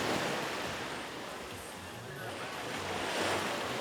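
Surf washes onto a shallow, calm beach at South West Bay in the Colombian Caribbean. It makes a continuous broadband rush that swells and eases, with wind buffeting the microphone and a faint low rumble underneath.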